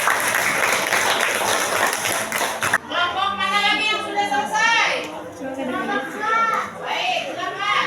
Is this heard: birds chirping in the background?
no